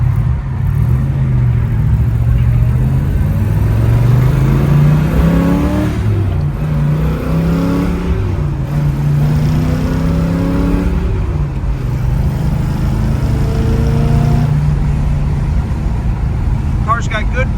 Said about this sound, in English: Car's got good power, shifts through all the gears the right way.